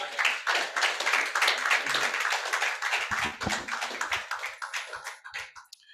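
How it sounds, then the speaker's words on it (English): Audience applause at a formal arbitration and dispute settlement journal event, dense clapping that thins out into scattered individual claps over several seconds. "Another round of applause, please."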